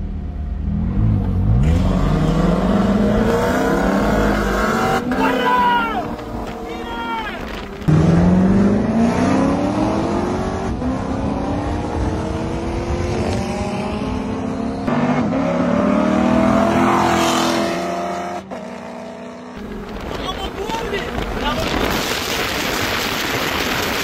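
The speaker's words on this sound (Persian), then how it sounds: "یه رقابت جدید. مکلارن 570 اس و کوربت C7" McLaren 570S and Corvette C7 sports cars, both with roofs open, race side by side, engines revving and accelerating with rising gear-change sweeps, loud and close throughout, a voice briefly audible over them.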